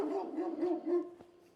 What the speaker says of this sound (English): Wow, big dog